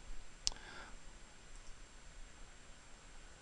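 A single sharp mouse click in editing software, clicking a Build Video button, sounds once near the start, close and crisp over a faint hiss of room noise.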